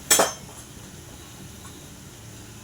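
A spoon clinks against a pan once as onion-garlic masala goes into tomato chutney, a single short metallic tap followed by quiet kitchen background.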